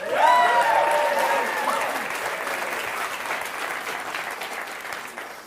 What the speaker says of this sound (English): Can I get a round of applause if you're excited for this?